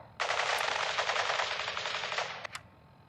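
Sustained automatic gunfire in Fallout 4 rattles as one fast, unbroken burst for over two seconds, followed by a couple of sharp single shots as it ends.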